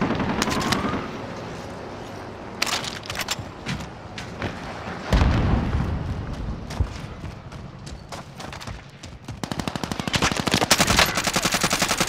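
Automatic gunfire in Call of Duty Warzone, repeated bursts and single shots cracking near and far, with thuds between volleys and a dense rapid stream of fire toward the end.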